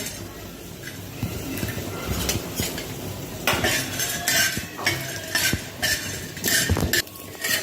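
Dry roasted dal rattles and scrapes in a pan as a spatula stirs it steadily, with clinks of metal and a faint sizzle, no talking.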